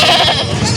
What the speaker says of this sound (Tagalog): Laking kambing, oh.